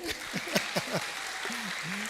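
Audience at a church youth camp session applauds, a dense steady clapping that fills the whole two seconds with voices and cheers rising over it.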